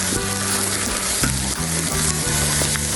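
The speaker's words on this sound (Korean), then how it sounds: "막창도 구웠어요. 불향이 가득해요." Beef intestines (makchang) sizzle loudly on a grill at a Korean barbecue restaurant, a dense, constant crackle of fat spitting close by, with no voices over it.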